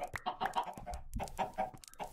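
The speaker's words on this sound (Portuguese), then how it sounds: "Atraio as galinhas tudo pra cá com um negocinho de trigo." Minecraft chickens clucking on a farm, lured with wheat, a busy run of short repeated clucks and squawks close by, with no talk over them.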